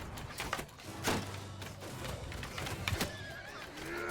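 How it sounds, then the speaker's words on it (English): Horse whinnying amid a medieval battle in the Game of Thrones mod of Mount & Blade II: Bannerlord, with a drawn-out neigh near the middle over a busy din of combat, impacts and clatter. "Oh, we took the horse down."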